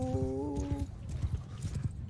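Horses in the video game Mount and Blade 2: Bannerlord give a brief whinny, then gallop in a steady, dense drumming of hoofbeats that carries on alone to the end.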